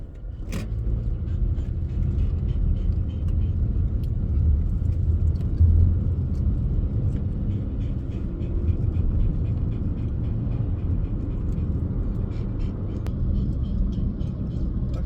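A car driving along a road on a trip, heard from inside: a steady low rumble of engine and road noise that continues throughout, with faint ticks and rattles above it.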